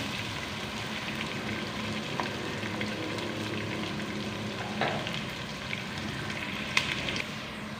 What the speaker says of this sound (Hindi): यहाँ पे प्याज़ों को ब्राउन कर लेते हैं।